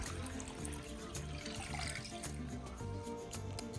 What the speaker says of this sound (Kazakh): Үлкендеу ыдысымызға 2 литр суымызды құйып аламыз.